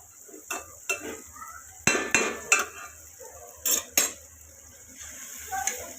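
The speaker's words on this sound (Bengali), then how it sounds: "এখন আমি লাড়া দিয়ে দিতেছি মশলাটা কষবে" Spice masala frying in a pan is stirred with a metal utensil, giving sharp clinks and scrapes in irregular bursts over a faint sizzle, close by.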